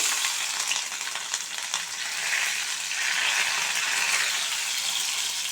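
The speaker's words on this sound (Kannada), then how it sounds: "ಎಣ್ಣೆ ಕಾದಿದೆ ಫಸ್ಟು ಹಸಿಮೆಣ್ಸಿನ್ಕಾಯಿ ಹಾಕೋತಾ ಇದ್ದಾರೆ" Green chillies dropped into hot oil in a pan for an egg stir-fry, a loud, bright, crackling sizzle that swells slightly and continues steadily without talk.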